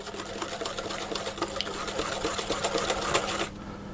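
Electric hand mixer beating brownie batter for two-bite chocolate chip brownies, a steady close whirring drone with rattling texture throughout, cutting off abruptly near the end.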